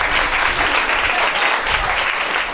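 An audience at a stage music-and-theatre evening bursts into sustained, loud applause, many hands clapping densely and evenly throughout.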